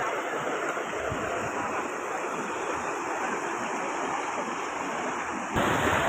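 Floodwater runs across a submerged main road in a steady, loud rushing wash that continues throughout, close to the microphone, with a gust-like surge near the end.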